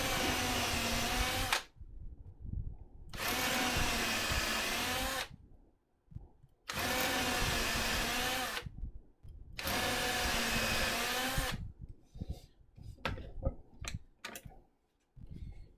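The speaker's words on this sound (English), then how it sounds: "So now we can re-drill these holes." A power drill re-drills pilot holes for joinery in four long bursts separated by short pauses, close and loud, followed by faint clicks and handling noises.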